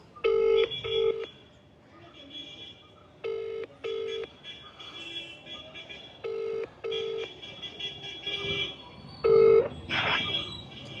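An outgoing phone call rings with repeated paired tones in a regular pattern, fairly loud and close, with faint background noise between the rings.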